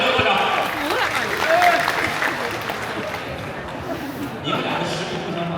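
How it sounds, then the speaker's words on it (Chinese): An indoor theatre audience at a Xiangxi art performance applauds for contestant number two, steady clapping across the whole stretch, with voices talking over it. "支持2号的，掌声有多少？"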